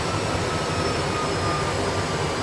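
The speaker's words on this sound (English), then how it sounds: "the aircraft made a perfect touchdown, and it's actually keeping itself on the runway" Airbus A320 on auto landing just after touchdown, heard as a loud, steady broadband rumble of engines and rolling on the runway, with no distinct impacts.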